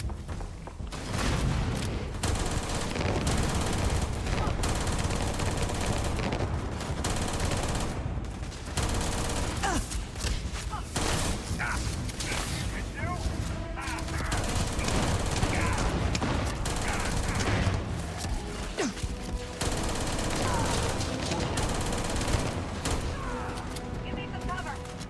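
Sustained gunfire from a weapon in a modded Starfield Shattered Space playthrough, loud bursts of shots repeating steadily over a long stretch amid busy combat noise.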